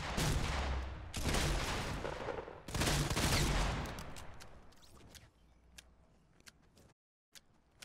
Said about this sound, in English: I'll just shoot him.